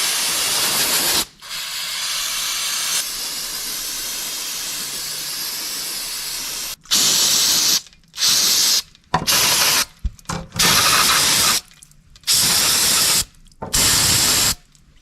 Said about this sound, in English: I'm gonna go ahead and get them sprayed off and cleaned up too before I put them on.